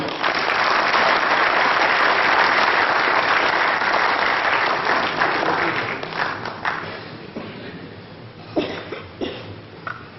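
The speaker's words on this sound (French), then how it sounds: "sous vos applaudissements, bien sûr" Crowd applause at a petanque masters prize ceremony in Madagascar, loud and dense at first, then thinning and fading into scattered individual claps and a few coughs near the end.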